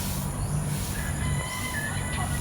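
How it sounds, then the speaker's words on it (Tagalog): Chickens cluck softly in the distance over a constant outdoor background hum on a rural property with turkeys. "May manok, may pabo."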